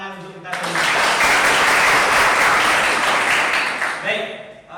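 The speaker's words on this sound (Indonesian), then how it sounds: "silakan kita tepuk tangan untuk kita semua" A classroom of students at a Hindu religious education lesson applauds together, a loud, dense burst of clapping lasting about three seconds, with a voice speaking briefly just before and after.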